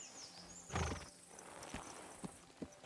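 A horse in the video game Kingdom Come: Deliverance II gives a short neigh followed by a few clip-clopping hoof steps, close and clear, with no voices.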